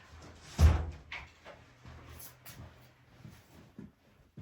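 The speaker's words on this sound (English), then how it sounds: "I'm going to shut this other door" Indoors, a door is pushed shut with a single dull thud, followed by faint small rustles and clicks in a quiet room.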